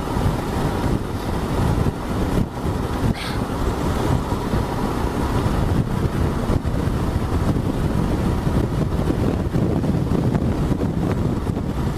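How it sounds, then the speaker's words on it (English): Strong wind buffets the microphone in continuous rumbling gusts, a low roaring blast that never lets up, while riding a Royal Enfield Himalayan motorcycle in the Peak District. "Oh yes, it's good and windy, alright."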